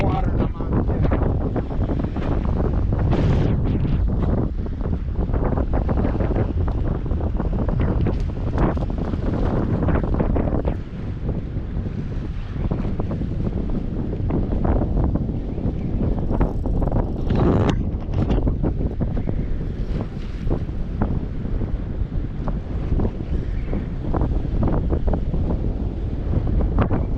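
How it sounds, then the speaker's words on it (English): Strong wind buffets the microphone on a fishing boat deck during fall salmon float fishing, a continuous loud roaring rumble with gusty surges and waves washing beneath, sustained throughout. "She's a windy one, she's picking up"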